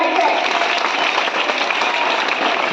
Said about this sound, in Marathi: टाळ्या वाजवत राहायचं.